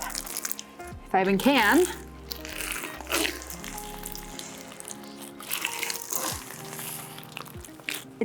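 Slime packed with beads squelching and crackling as hands knead it, with wet squishes and gritty rustles up close. A person talks over the mixing.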